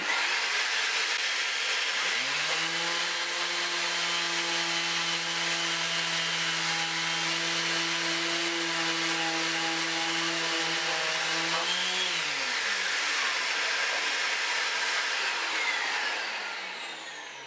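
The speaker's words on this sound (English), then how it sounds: "I think I'll just break the sander out again and just give those a final clean up" Power sander running on the refinished body of a Squier Stratocaster guitar, a steady loud whine that spins up, holds evenly for about ten seconds, then winds down, close and alone with no talking.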